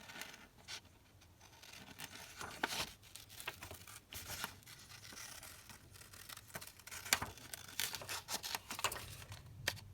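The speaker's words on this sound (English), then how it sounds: "So I'm just going to cut this little boy out." Scissors cut a small paper picture out of a book page, a continuous run of soft snips, rustles and crinkles, close and quiet.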